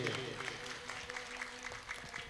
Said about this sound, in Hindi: जोर से ताली बजाए, तारीफ करे प्रोफेसी के लिए।